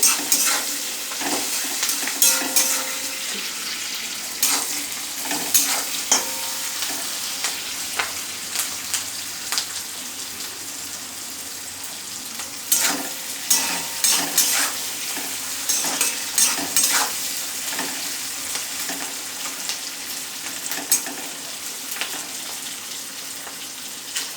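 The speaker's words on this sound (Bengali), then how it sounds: "এর মধ্যে টমেটো সস, চিলি সস আর সয়া সস আছে। আমি ভালো করে একটু নেড়ে নিচ্ছি" Chili egg frying in a pan with tomato sauce, chili sauce and soy sauce, stirred steadily under a constant sizzle, with repeated scraping clicks of the utensil against the pan close by and no talking.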